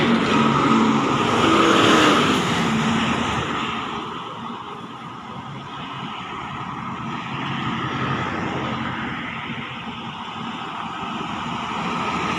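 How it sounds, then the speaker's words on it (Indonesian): A PMTO intercity bus running from Solo to Medan roars past on the road, loud and close at first, then fading into a steady broad engine and tire rumble with traffic behind. "Bus PMTO ini dari Solo teman ya, menuju kota Medan."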